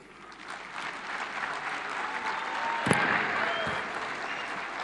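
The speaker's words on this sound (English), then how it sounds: "Another round for applause to Irungu Kangata." Sustained applause from an audience at a live public ceremony with speeches, a dense, steady clatter of many hands clapping that holds evenly for the whole stretch, with one sharper clap standing out near the end.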